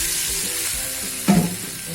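Asafoetida tempering crackling in hot oil for semolina chilla: a short, sharp burst of spluttering sizzle over a steady frying hiss, with no talk.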